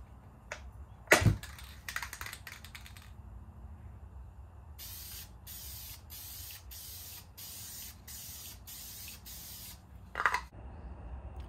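Final clear coat sprays onto a 2000 Honda Civic's rust repair, heard as a series of short, close hissing aerosol bursts in a steady rhythm, with a couple of louder knocks and handling noises around them.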